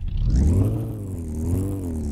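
A freshly restored car engine, its exhaust just fitted, fires up for the first time in a garage and revs loudly, the pitch rising and falling in a steady, continuous roar with no talking.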